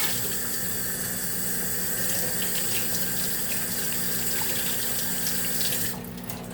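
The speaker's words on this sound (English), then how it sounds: "I'm washing my hands right now" A kitchen tap runs steadily into a sink as hands are washed under the stream, a constant close splash that cuts off abruptly at the end.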